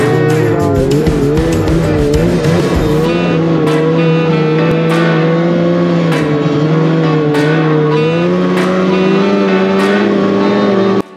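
A snowmobile carries its riders along a snowy track, its engine whining steadily with slight rises and dips in pitch. Light clicks sound over it, and the whine cuts off abruptly at the end.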